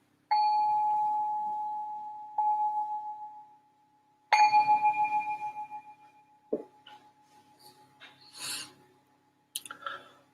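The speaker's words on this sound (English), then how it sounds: "Let me just ring this bell to signal the start of the meditation." A meditation bell is struck several times in a quiet room at the opening of a guided meditation workshop. Each clear ring sustains and slowly fades, followed by softer rustling and light handling noises.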